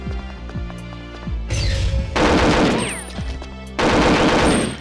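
Video game gunfire: a few scattered single shots, then two long loud bursts of rapid automatic fire separated by a short pause, close and dominant, no speech.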